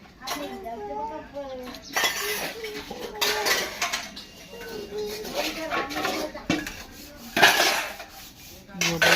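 Metal pots, plates and cutlery clink and clatter in bursts as they are washed nearby, while people talk over the noise throughout.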